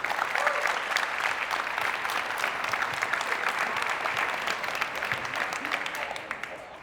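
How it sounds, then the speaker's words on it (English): A large audience applauds for a group of behind-the-scenes helpers at a Project Endure event, a steady dense wash of many hands clapping that holds evenly for several seconds before thinning and fading at the end. "So let's clap it up for that group."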